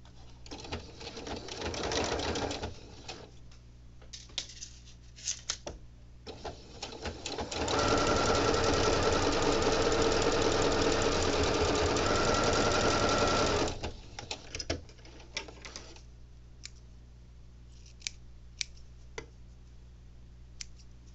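A sewing machine stitches fabric for a quilt-style top, running in a short burst, then a long steady whir of about six seconds, with sparse clicks and handling noise between runs and no talk.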